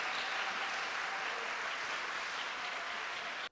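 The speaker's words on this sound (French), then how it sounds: "Vous pouvez applaudir." Audience applauding at a celebration of Pierre Goursat's 100th anniversary, a dense, steady wash of many hands clapping that holds evenly for several seconds before cutting off abruptly.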